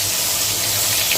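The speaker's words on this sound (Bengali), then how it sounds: "আস্তে করে তেলের মধ্যে মাছটা দিয়ে দেবো। দিয়ে মাছটা ভালো করে ভেজে নেব।" Fish fries in hot oil in a karahi, a loud, continuous close sizzle and bubbling hiss that holds steady with no voices.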